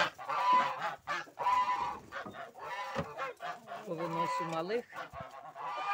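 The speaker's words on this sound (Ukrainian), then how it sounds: "Тому зараз відкриваю птицю свою." Geese honk loudly and repeatedly in a backyard poultry yard at morning as the birds are let out, with chickens clucking nearby and someone speaking briefly over the calls.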